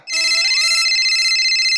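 An electronic phone ringtone plays loudly and continuously, a bright repeating melodic tone with no voices.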